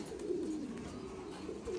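Thai Titan pigeons on a farm give low, rolling coos at close range, a steady murmur of overlapping calls with no talk.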